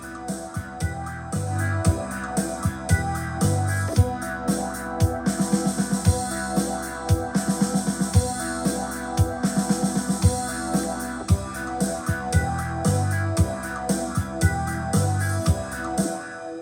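Yamaha PSR-SX920 keyboard playing back a custom style, a full arrangement of steady drums, bass and layered instrument parts in a regular rhythmic groove, moderately loud with no speech.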